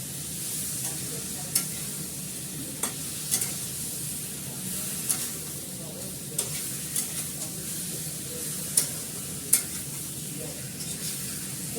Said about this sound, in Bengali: এইভাবে দেখো ভালো করে কষাচ্ছি।